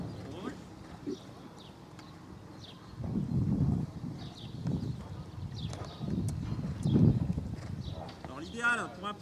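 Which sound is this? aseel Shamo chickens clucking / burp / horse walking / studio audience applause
horse walking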